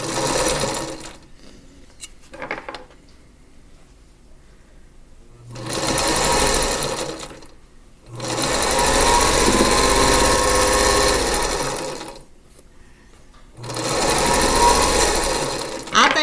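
A sewing machine stitches a quilt seam in three loud, close bursts of steady whirring, separated by quiet pauses with faint handling sounds.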